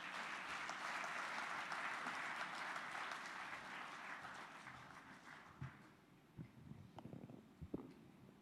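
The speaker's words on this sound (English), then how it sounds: "I ask you for a warm round of applause for Bishop Sunday Unowa" An audience at a peace convention plenary session applauds a Methodist bishop, a dense, distant wash of clapping that slowly thins and fades, leaving a few scattered claps and knocks at the end.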